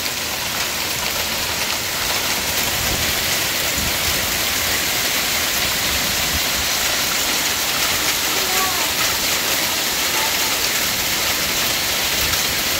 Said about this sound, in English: I've never in my life seen this much hail.